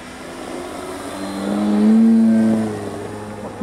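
An electric motor driving a Yak 54 30cc RC model airplane, converted to run on a 6S LiPo battery, whines close by, rising in pitch and loudness to a peak midway and then easing back down.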